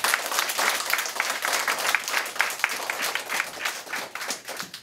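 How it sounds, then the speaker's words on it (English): Audience applause and clapping from a crowd, steady and dense throughout, with many hands clapping at once and no speech over it. "Clap for yourself. I want to hear it loud."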